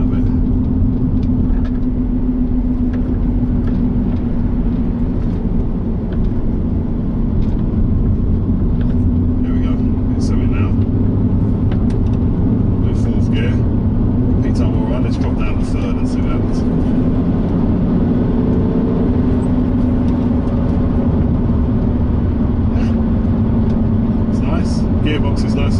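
A Renault Avantime accelerates along an open road, its engine a steady, close droning hum beneath continuous road noise while someone talks over it throughout.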